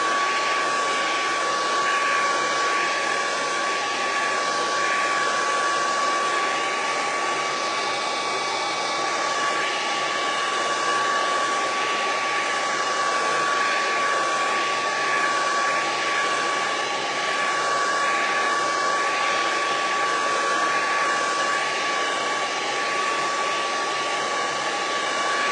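Craft dryer running continuously at a steady, loud, even whir with a constant high tone, no voices over it.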